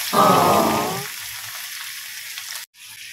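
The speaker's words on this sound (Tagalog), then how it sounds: "Dali ako nagprito kaya hindi ko gusto matalsikan ako sa mantika." Chicken drops into hot oil with a loud, close burst of sizzling that settles into a steady, quieter frying hiss, briefly cut off near the end.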